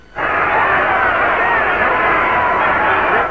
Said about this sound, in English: In this film can are the sounds of crowd cheers.